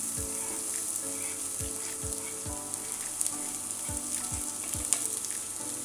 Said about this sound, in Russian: На раскаленную сковородку наливаем немного растительного масла и высыпаем нарезанный лук.